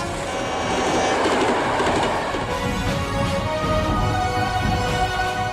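An Indian Railways train rolls along the tracks, a loud continuous rumble with rhythmic clickety-clack from the wheels, heard close and alone without talk.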